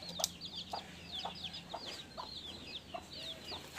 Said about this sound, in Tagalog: Bagong pisa lang ngayon. Mga bagong pisa.